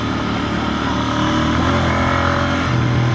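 A Royal Enfield Bear 650 motorcycle ridden off-road on loose ground gives a steady, close engine drone with an even throttle, lifting slightly near the end, and no one speaks.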